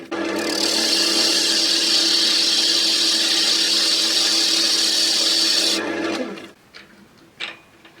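A wood lathe spins steadily while a pencil pot is turned on it, a loud continuous whir and cutting hiss for about six seconds, then the machine winds down into a few faint knocks.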